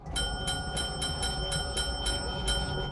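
A small bell rung by a wheelchair-bound Breaking Bad character dings in a steady series, about nine bright strikes close together, each ringing briefly over a low background hum.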